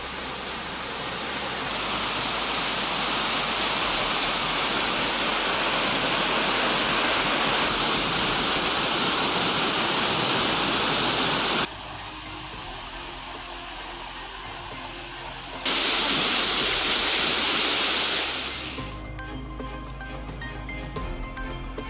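Megamalai waterfall in Tamil Nadu pours in a steady, loud broadband roar of falling water, continuous through the clip with brief shifts in level and no voices.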